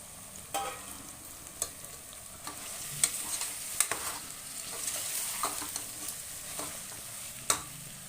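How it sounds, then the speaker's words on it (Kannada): Carrots and beans frying in a little oil for vegetable pulao, a steady soft sizzle broken by intermittent scraping stirs of a spoon against the pan, close and fairly quiet, with no talking. "ತರಕಾರಿ ಸೇರಿಸ್ಕೊಂಡು ಅದನ್ನು ಒಂಚೂರು ಎಣ್ಣೆ ಒಳಗೆ ಫ್ರೈ ಮಾಡ್ಕೊಳೋಣ"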